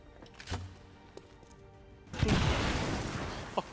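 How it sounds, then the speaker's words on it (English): A grenade goes off in XCOM 2: War of the Chosen with a single loud, heavy blast that rumbles out for over a second, after a few quiet clicks and thuds. "We can follow up with the grenade"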